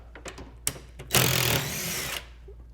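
A power drill drives screws out of a wallbed cabinet, with a few light clicks and taps followed by a close, steady whirring burst of about a second.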